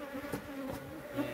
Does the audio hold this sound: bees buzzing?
yes